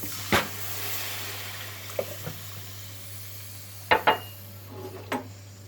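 Cornmeal and water are stirred in a pan for kuymak, with a faint steady sizzle and several sharp scraping clinks of a utensil against the pan, no talking.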